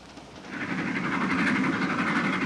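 Passenger train rolling along with people inside a carriage, a steady rumbling roar that swells slightly and continues without voices.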